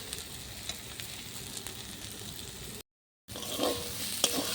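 Greens frying with potato as previously fried peanuts are tipped into the pan, a steady soft sizzle with stirring scrapes, a brief silent gap, then louder clattering as the nuts go in.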